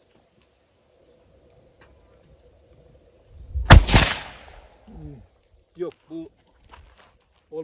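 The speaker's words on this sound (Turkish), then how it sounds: "Tek kurşun atıyoruz." One sharp, loud rifle shot fired at a target outdoors cracks out alone over a steady insect buzz, followed by a few brief voices talking nearby.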